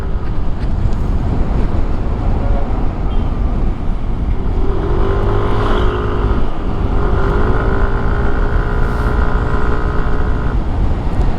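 A Yamaha NMAX v3 scooter at speed, its engine droning steadily under loud rushing wind, with a rising and falling whine midway as it pushes along a road.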